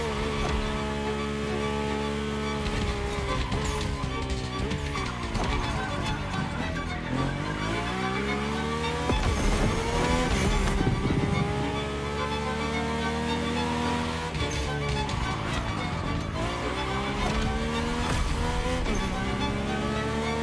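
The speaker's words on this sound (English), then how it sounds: "My ultimate appointment in this country was set with the breathtaking Mercedes AMG 1." A Mercedes-AMG One hypercar drives by with a loud, continuous high-revving engine whose pitch rises and falls with each shift and throttle change, sustained throughout.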